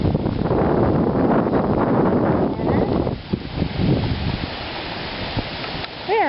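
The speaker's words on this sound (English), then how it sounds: "And it's really windy, so sorry if you can't hear me." Strong wind buffets the microphone on an outdoor walk with a stroller, a loud continuous rumbling roar that eases slightly midway, with faint, brief sounds near the end.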